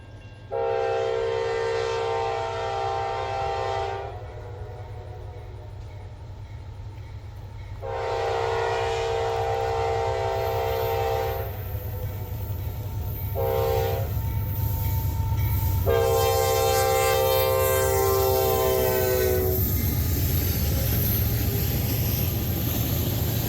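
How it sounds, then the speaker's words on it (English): A train on the A Line rolls slowly past nearby, its horn sounding in several long blasts with pauses between them, over a continuous loud rumble of railcars. "By now, our train has slowed down to about 20 miles per hour"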